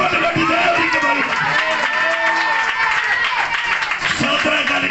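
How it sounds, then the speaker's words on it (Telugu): A church congregation claps loudly during a Sunday sermon, a dense continuous patter of many hands mixed with voices. "గట్టిగా చప్పట్లు కొట్టి దేవుడికి బలి."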